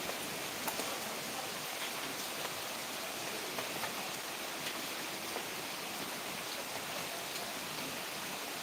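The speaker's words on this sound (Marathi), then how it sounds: "साडेनऊ वाजल्यापासून पाऊस सुरू झाला" Rain pours down in an even, unbroken wash of noise, moderately loud and alone, with no voices.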